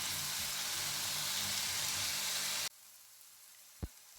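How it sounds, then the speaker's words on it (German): Leek sizzling in a pan as it browns, a dense steady hiss that cuts off abruptly, leaving quiet room tone and a single low thump. "Und lasse ihn ein wenig anbraten."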